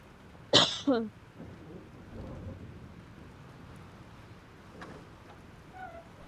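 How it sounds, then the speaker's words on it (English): A thunderstorm in the video game Life is Strange, with a sharp crack of thunder followed by a low rumble and steady rain hiss, fairly close and loud at first, then fading to a soft background. "This storm is real."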